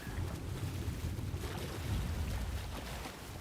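Rough ocean waves in the game Ark Genesis 1, a faint, steady rushing wash of water and wind with low surging swells and no voices.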